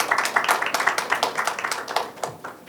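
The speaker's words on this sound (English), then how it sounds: "Give a big round of applause, please." An audience at a session of a professional conference breaks into applause, a dense patter of many hands clapping at close to moderate distance that carries on steadily and slowly thins out.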